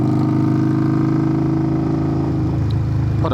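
A 2021 Indian Scout motorcycle with a Hacker Mayhem exhaust rumbles loud and close in a deep, throbbing idle, then the note wavers and breaks up near the end, alone with no talk.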